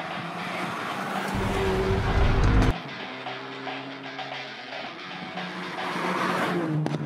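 A Hyundai i30 Fastback N performance car drives fast through curves, its engine roaring loudly and close, with a heavy low rumble surging and easing as it takes the bends.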